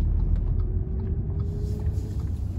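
A 2016 Audi S4 3.0 TFSI quattro makes a slow U-turn, heard from inside the cabin as a low, steady engine drone with road rumble and a faint sustained tone.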